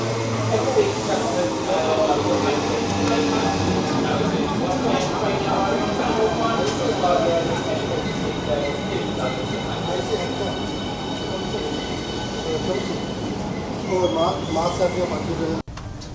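Steady rumble and hum inside a moving Southeastern HS1 high-speed train carriage from Folkestone to London St Pancras, with a continuous low drone and faint rattling throughout, and a voice speaking over it.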